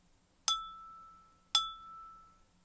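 A drinking glass filled about a third with water is struck twice, about a second apart; each strike gives a clear bright ring that slowly fades, with nothing else heard.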